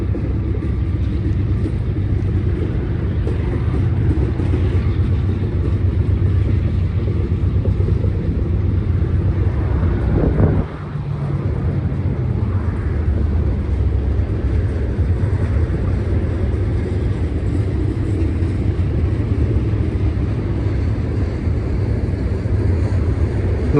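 BNSF freight train locomotives working upgrade toward Cajon Summit give a steady, loud, deep rumble that holds throughout, with a brief dip partway through.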